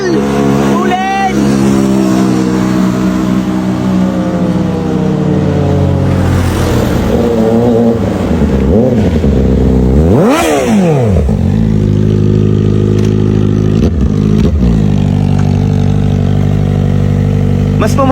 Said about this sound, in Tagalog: Mas pumogi lalo si Zeke sa bago niyang muffler